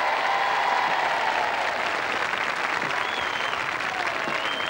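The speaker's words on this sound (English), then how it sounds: "A round of applause for Gary Lineker." A large studio audience applauds Gary Lineker at a 1987 BBC knockout tournament, a dense, steady wash of many hands clapping close and loud throughout with no break.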